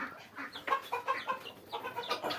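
Free-range chickens clucking and calling in a busy, continuous chatter of overlapping short clucks, moderately near, with no talk.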